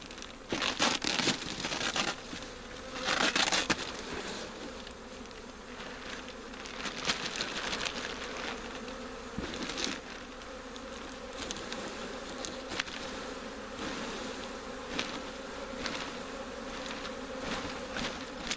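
A swarm of honeybees buzzes continuously during a capture at a tree, a dense droning hum with scattered louder passes and some rustling, crinkling handling noises.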